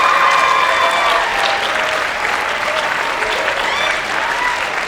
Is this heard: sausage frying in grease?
no